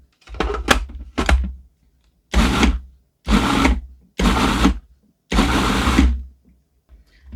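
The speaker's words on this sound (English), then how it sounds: "I'm going to go ahead and pulse this until they're chopped" A food processor pulsing tomatoes for homemade salsa: five or six short, loud whirring bursts, the first two brief and choppy, the later ones longer at about a second each, separated by silent gaps.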